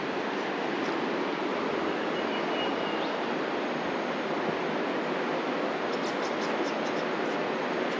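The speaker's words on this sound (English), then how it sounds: "I think where we are, there's a little bit more river noise. This is flowing." Steady broadband rush of a flowing river seen from a lookout in Kosciusko National Park, a continuous even wash of water filling the whole clip with no talk over it.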